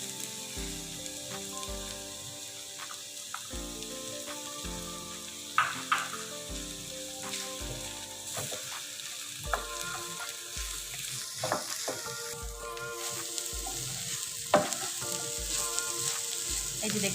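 An egg frying with strips of bottle gourd peel in a pan gives off a steady, close sizzle with occasional stirring scrapes, while music plays in the background throughout.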